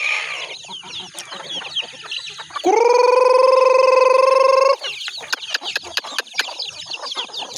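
Pet chickens clucking and scratching nearby, with one bird letting out a long, loud, sustained squawk in the middle before the scattered clucks and rustling resume.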